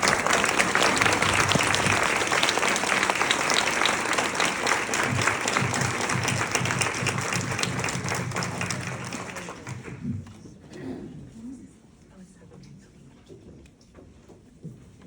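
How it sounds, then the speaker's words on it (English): Loud audience applause at a book meet-and-greet welcoming authors Karin Slaughter and Claire Eisenbach, dense sustained clapping for about ten seconds that then thins and fades into a quieter room. "Please put your hands together and welcome Karin Slaughter and Claire Eisenbach."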